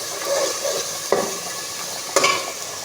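Onion paste, spices and salt sizzle gently in a pan as they are sautéed, with two sharp scrapes of a utensil stirring against the pan.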